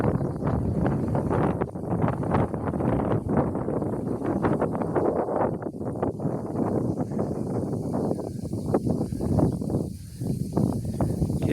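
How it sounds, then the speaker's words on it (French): Strong outdoor wind buffets the microphone in continuous gusty rumbles while someone walks up a path. The noise is loud and broadband and lasts throughout, with no speech. "Bon, il y a du vent."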